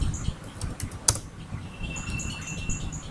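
Typing on a computer keyboard indoors, a steady stream of soft, close key clicks with one sharper tap, over a faint fan hum and no talking.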